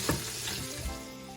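Sausage and garlic sizzle and fry in a pan, with a steady crackling hiss that carries throughout and a few louder pops and stirring knocks near the start.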